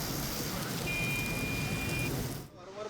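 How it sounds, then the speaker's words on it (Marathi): Heavy rain driven by strong wind over Kalyan Dombivli, a dense, steady broadband roar holding level for over two seconds before cutting off abruptly. "वादळी वाऱ्यासह या ठिकाणी मुसळधार पाऊस झाला"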